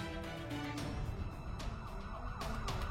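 An ambulance siren in a cartoon wails over steady road and engine noise, fairly distant and sustained throughout, with no voices.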